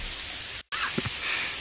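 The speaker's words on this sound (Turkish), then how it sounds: "Tabii bu yağmurda." Rain falls outdoors with a steady, close hiss that breaks for a moment in a brief cut. A couple of faint low thumps follow under the rain.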